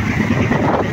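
Strong storm wind at sea buffeting a boat and the microphone, a loud close roaring gust with low rumbling pulses, continuous and alone with no talk.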